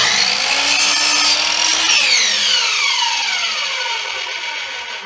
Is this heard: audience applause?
no